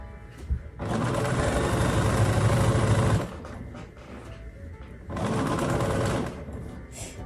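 A sewing machine stitches quilt pieces in two loud, steady bursts of rapid mechanical whirring, the first about two and a half seconds long and the second about one second, separated by quieter handling noise.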